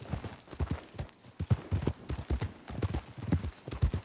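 A horse in Red Dead Redemption 2 clip-clops in a steady, rhythmic run of close hoofbeats that continues without a break, with no talking over it.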